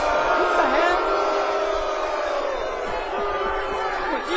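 A studio crowd bursts into loud overlapping shouts, several voices yelling at once in a sustained roar lasting a few seconds.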